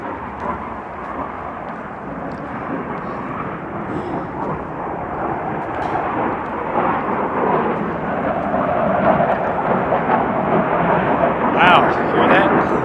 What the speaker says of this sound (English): That's probably the 4th jet I've heard flying over these mountains today.